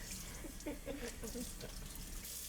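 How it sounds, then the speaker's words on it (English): Tap water running steadily while hair is rinsed, a faint, even wash of flowing water throughout, with a person speaking softly over it. "And this is how I'm like rinsing."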